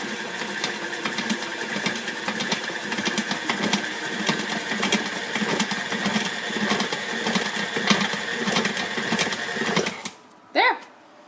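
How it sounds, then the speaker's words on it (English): An electric mixer churns flour into cookie dough with a loud, steady rhythmic whir for about ten seconds, then stops abruptly, leaving a brief voice afterward. "I'm just going to turn the mixer on here and watch this go"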